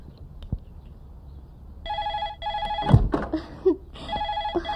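A telephone rings in repeated electronic bursts of bright, buzzy tones, close and clear, with a thump and a short rustle breaking in between rings.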